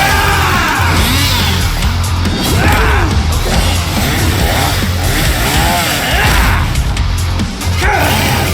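A chainsaw revs loudly and continuously in an animated Chainsaw Man fight. The roaring engine surges and dips, with yells and gasps mixed in over the top.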